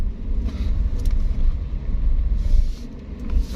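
A car idles and creeps slowly while parking at a bus terminal, a low steady engine rumble up close with faint scattered clicks and background noise.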